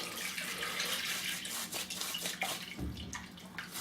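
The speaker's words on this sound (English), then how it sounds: "So we'll just put some water in the sink." Tap water runs steadily into a bathroom sink, a soft continuous splash and trickle heard faintly and close by, with a slight deeper gurgle as the basin fills.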